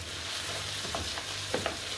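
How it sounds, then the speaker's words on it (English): Paella rice fried and stirred in a pan, a continuous close sizzle with a couple of brief spatula scrapes and clicks toward the end, no voices. "So we're going to cook out the rice a little bit."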